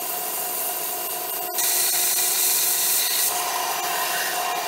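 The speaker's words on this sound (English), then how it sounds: "I sand down the proper amount" A homemade survival weapon being sanded down to a sharper edge, giving a steady, close abrasive rubbing that grows slightly louder and harsher partway through and continues without talk.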